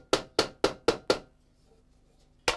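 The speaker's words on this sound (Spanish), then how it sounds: "Todo a golpes con el martillo, con este martillo." Hand hammer striking metal at a rural forge, five sharp ringing blows in quick even succession, a short pause with faint low hum, then one more strike, close and clear.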